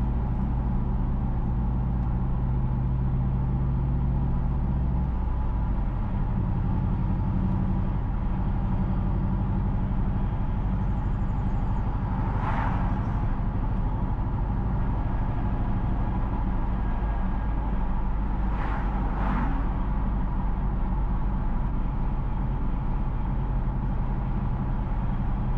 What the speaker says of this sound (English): Currently, we are driving south on Banana Street towards Port Maria Town